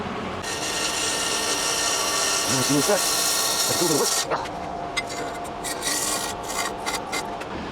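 Wood being turned on a lathe for a lidded rice bowl, a steady close rasping scrape of the gouge cutting and throwing shavings, which stops near the end, leaving lighter intermittent scraping.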